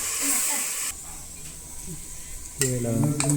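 Green masala paste of ground coriander leaves, green chilli, onion and garlic frying in a pan for mutton curry, a soft steady sizzle and hiss with stirring scrapes, brief clatter near the end, and a voice talking over it.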